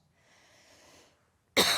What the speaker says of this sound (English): I've talked myself into coughing up it all, spitting it out.